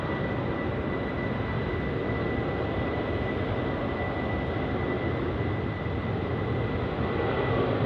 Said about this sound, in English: 747 for the win. The Atlas Air now taking off.